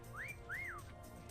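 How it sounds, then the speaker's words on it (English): Two short rising-and-falling whistle signals from the video game Meccha Chameleon, played in quick succession, clear and fairly loud over a low background hum. "15 seconds and we get another whistle."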